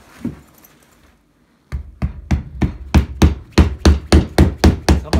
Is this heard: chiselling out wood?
yes